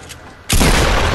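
Video game gunfire erupts abruptly after a quiet moment, a loud sustained burst of dense shots filling the rest of the moment.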